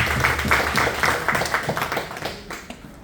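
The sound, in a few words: audience applause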